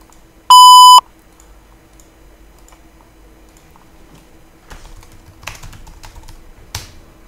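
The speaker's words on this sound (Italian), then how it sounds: "Lascia un messaggio dopo il beep." A voicemail beep sounds as a single loud, pure electronic tone lasting about half a second, followed by quiet line hiss and some faint clicks and rustling.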